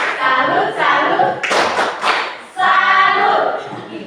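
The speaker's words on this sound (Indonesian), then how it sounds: "Mari kita beri tepuk tangan." A group claps in several short, loud bursts with brief pauses between them.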